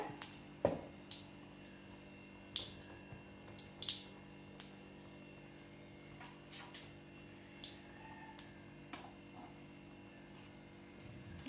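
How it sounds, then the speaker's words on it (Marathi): Mustard seeds crackle in hot oil in a kadhai while a radish chutney is being made: sparse, faint, irregular pops and ticks over a low steady hum. "मोहरी छान तडतडू द्यायची आपल्याला"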